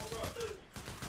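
Gunfire in a zombie video game, a few short crackling shots bunched within about a second, mixed under a player's talking.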